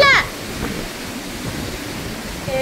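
Heavy rain and strong wind outdoors make a steady, loud broadband roar throughout, with a brief sharp sound at the start and again near the end.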